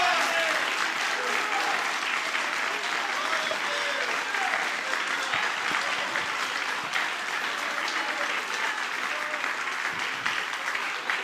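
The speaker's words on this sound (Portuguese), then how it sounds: "Vamos aplaudir a Jesus" A church congregation claps together in sustained, steady applause for about eleven seconds, loud and dense throughout, filling the worship space with no pause.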